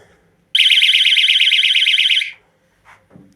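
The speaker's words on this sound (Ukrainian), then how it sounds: "Купив я такого собі піщалочку, коли пропадає світло. Її чути на ціле подвір'я ту піщалку" A power-outage alarm beeper unplugged from its wall socket shrieks in a loud, rapid warbling tone for about two seconds before cutting off, then faint handling noises follow.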